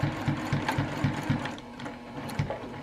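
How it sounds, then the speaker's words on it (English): A sewing machine back-stitches a tote bag with a quick, regular mechanical chatter of repeated needle strokes that pauses briefly before a few more stitches, close and alone without talk. "I do like to make sure and do a nice back stitch here"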